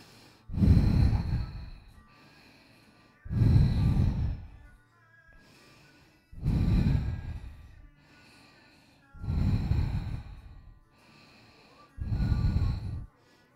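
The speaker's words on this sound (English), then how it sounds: "Take nice big deep inhales and exhales." Slow, deep yoga breathing repeats in five even cycles, each a long, breathy inhale-exhale swell a few seconds long separated by quiet pauses, close and soft with no talking.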